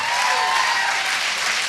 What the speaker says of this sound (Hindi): मैं चाहूंगा कि इनके लिए जोरदार ताली हो जाए।